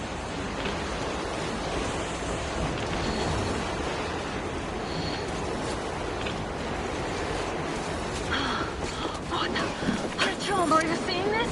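Steady roaring blizzard wind in the snowy surface wasteland of the Metro video game, a broad continuous rush with gusts swelling near the end and faint voices underneath.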